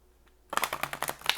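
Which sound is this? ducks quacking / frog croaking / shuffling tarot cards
shuffling tarot cards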